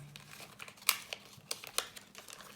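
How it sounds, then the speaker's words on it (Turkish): Origami paper is folded and opened by hand to make a pinwheel, giving soft close crinkles and sharp paper snaps in an irregular rhythm, faint and with no voices. "Her tarafı güzelce katlıyorum."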